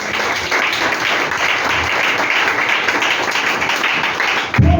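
A church congregation applauds and acclaims Jesus, dense sustained clapping filling the room at close range with a few cheers mixed in, ending abruptly.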